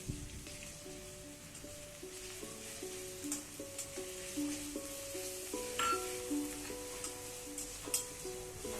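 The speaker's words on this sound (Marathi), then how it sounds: "बारीक केलेली हिरवी मिर्च त्यामध्ये मिक्स करून घ्यायची" Finely chopped green chilli is stirred into onions already fried reddish-brown in a pan for spicy dry cowpea pods, giving a steady close sizzle with soft stirring movements and faint music behind.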